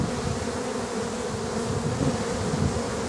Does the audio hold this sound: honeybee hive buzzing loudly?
yes